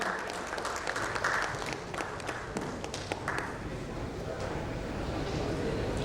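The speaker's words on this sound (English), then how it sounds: "A big round of applause to Shashi for his wonderful contribution in" Audience applause at an insurtech conference panel session, many hands clapping in a broad steady wash that fades a little over several seconds, with some voices mixed in underneath.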